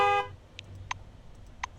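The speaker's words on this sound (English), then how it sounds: "Honk the horn." Car horn in the Encased video game, two short honks spaced well apart after a brief electronic tone, fairly quiet over a low engine hum.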